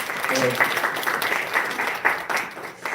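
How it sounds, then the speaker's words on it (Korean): A church congregation at a young-adult worship service gives a brief round of applause in the room, moderately loud clapping with a voice speaking over it. "우리 박수 한 번만 보내주시면 좋겠습니다."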